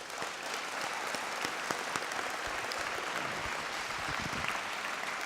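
A crowd at a university scholarship ball applauds a doctor and his team, a broad, even wash of clapping that holds steady and moderately distant throughout, with no voices standing out.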